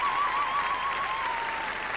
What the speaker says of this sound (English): Great cheering going on here in Mill Street tonight.